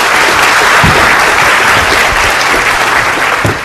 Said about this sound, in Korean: 큰 박수로 맞아주시죠